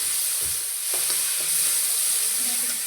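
Lentils frying lightly in a pan, giving a close, steady hissing sizzle with a few faint clicks and knocks, and no voices.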